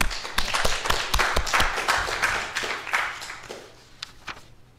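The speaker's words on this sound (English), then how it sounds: "I think we should give applause to all of us and to this program" Church congregation at a Sunday worship service claps together, distinct sharp hand claps close by that thin out and fade over a few seconds, with quiet room noise after.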